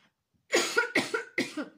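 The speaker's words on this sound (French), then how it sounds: "je me mets à tousser" Three harsh coughs in quick succession, close and fairly loud, following a brief quiet moment.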